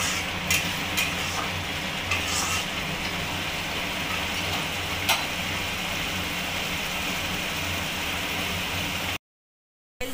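Spices frying in oil in a pan while being stirred: a steady loud sizzle runs throughout with scraping stir strokes and a few sharp clicks, ending in a brief silence.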